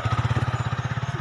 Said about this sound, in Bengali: এই মনে হয় আসছে আসছে, বাইকের আওয়াজ পাচ্ছি